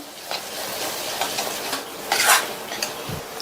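Metal utensil scraping and stirring chili powder and spices in a pan, a series of short clinks and scrapes at moderate volume with a faint background hiss.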